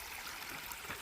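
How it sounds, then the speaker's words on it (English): A river flowing through a remote old-growth forest, heard as a steady broadband rush of moving water, fairly faint and even with no talking over it. "up down here I can start hearing the river flowing again"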